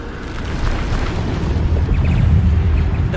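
Bombarda explosion spell going off in the video game Hogwarts Legacy, a loud, sustained rumbling blast with heavy low boom and crackling bursts over continuous battle noise.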